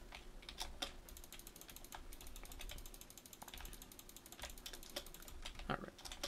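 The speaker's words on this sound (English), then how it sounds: "I need to get a controller so you guys don't hear all these damn mouse clicks." Rapid, fairly quiet clicking and clattering of a computer mouse, irregular bursts close up over a low background hum.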